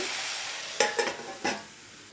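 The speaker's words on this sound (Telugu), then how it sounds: "పనస ముక్కల్ని వేసుకుని కొంచెం సాల్ట్ అలాగే కొంచెం పసుపు వేసి కొంచెం తొందరగా మగ్గుతాయండి" Jackfruit pieces with salt and turmeric are stirred in a pan, giving three brief scraping stirs over a soft, steady background sizzle.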